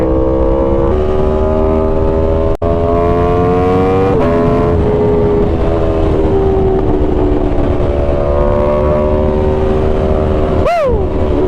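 A 2018 Aprilia Tuono V4 Factory motorcycle runs hard at speed, its engine tone dropping in steps through downshifts with a sharp blip and rising whine near the end, loud and close under heavy wind rush.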